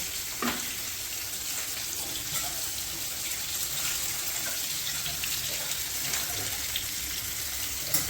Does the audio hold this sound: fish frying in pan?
yes